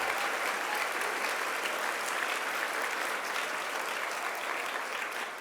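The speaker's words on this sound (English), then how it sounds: "Give them a big round of applause for all that they've done." Conference audience at a GEAR UP keynote applauding, a dense steady wash of many hands clapping, moderately distant and sustained before tapering slightly at the end.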